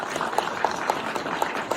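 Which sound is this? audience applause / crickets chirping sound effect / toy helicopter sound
audience applause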